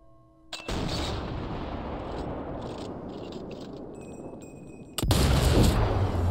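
A sniper rifle fires in the Sniper Elite 4 video game at a German dockside level in North Italy, a sharp loud report with a long rumbling tail, followed by a second heavy blast near the end.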